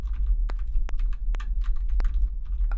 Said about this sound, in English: I'm pressing the arrow keys,